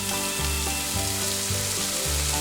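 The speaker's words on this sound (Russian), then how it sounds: "Лук репчатый нарезаем мелко и поджариваем минуты 3." Finely chopped onion and grated carrot fry in a pan for borscht, giving a steady close sizzle with a faint background hum.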